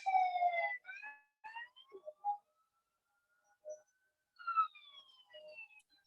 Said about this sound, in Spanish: no se escucha bien por la ambulancia que está pasando